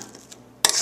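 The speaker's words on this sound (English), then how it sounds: "And then I want to mash my bananas." A metal fork mashes bananas in a dish, first a few faint, soft scrapes and then a sudden bright clatter and rasp of the fork against the bowl, close by.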